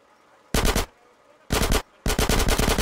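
Automatic gunfire in GTA San Andreas Definitive Edition comes in three loud, close bursts of rapid shots, the last the longest, with short silences between.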